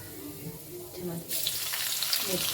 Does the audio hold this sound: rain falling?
no